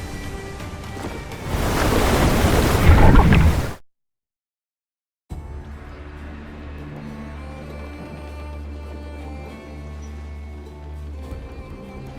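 Open sea in Assassin's Creed IV Black Flag as a waterspout churns nearby: loud roaring wind and crashing surf swell, then cut to silence, followed by a steadier low rush of waves and hull noise.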